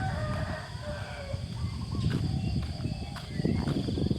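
A rooster crows from some distance over steady outdoor background noise in rural Thai rice fields in the morning, with a few faint bird calls mixed in.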